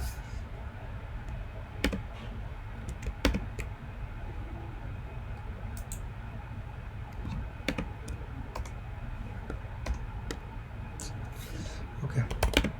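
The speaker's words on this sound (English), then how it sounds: "Okay, let me type this actually." Typing on a computer keyboard, a steady patter of soft close keystrokes with a few sharper clicks, continuous through the stretch under faint background noise.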